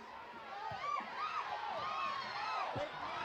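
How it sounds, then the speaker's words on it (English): Distant football crowd at a Lewis County versus Elkins high school game yells and cheers in a faint, steady wash, with scattered whoops and shouts rising above the murmur. "Crowd yelling for the Tiger to run it to the end zone"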